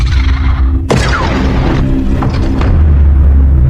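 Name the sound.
small caterpillar exploding, film Predator Badlands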